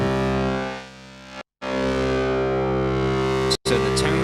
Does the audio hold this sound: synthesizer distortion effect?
yes